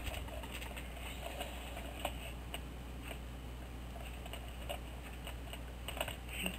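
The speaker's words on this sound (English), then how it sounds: "type in email" Someone types on a computer keyboard while entering an email address on a PC, quick faint irregular key clicks against a low hum, no talking.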